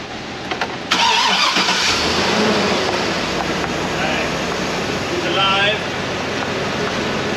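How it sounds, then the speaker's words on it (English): A 2006 Chevrolet Silverado with 400,000 miles restarts; the engine catches about a second in and settles into a steady, loud idle that runs to the end of the clip. "Restarting the engine."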